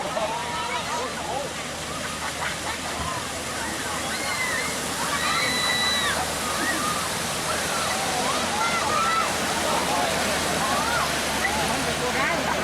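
Boat wake waves slosh and splash against a lakeside restaurant at a Thai reservoir in Chiang Mai, a continuous watery rush with repeated splashes, while people talk and chatter throughout.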